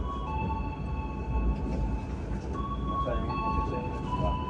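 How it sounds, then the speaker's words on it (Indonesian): The Motis Tengah train pulls out of Cirebon Prujakan station with a steady low rumble of wheels on rails and faint metallic squeals, while a station announcement speaks over it. "kereta api Motis Tengah diberangkatkan kembali dari stasiun Cirebon Perujakan"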